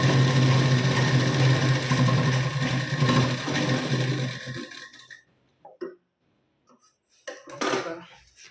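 A sewing machine stitches a folded seam on a blouse, running loud and steady for about five seconds, then stopping, with a few short bursts of stitching afterward.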